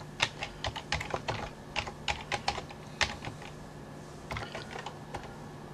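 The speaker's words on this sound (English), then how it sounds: "that's what I'm going to type in here" Quick, light keystrokes tap out a password on a computer keyboard, a close run of irregular clicks with a short pause before a final few presses, over a faint steady hum.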